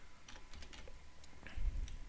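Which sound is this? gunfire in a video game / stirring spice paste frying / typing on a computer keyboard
typing on a computer keyboard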